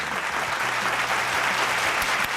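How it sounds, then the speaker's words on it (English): Steady applause from a large football stadium crowd before a Mallorca versus Barcelona La Liga match, a dense continuous patter of clapping that lasts throughout without pause. "A round of applause, please"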